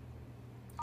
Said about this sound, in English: So returning to the phone, we dial that code